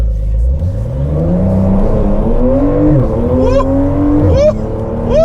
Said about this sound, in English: Let's take this car for a ride and see what she's all about.